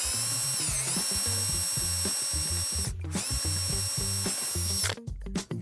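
A power drill whirs steadily at high speed drilling a 3.5mm pilot hole through a deck handrail into a base plate, briefly pausing midway, then stopping with a few short bursts at the end.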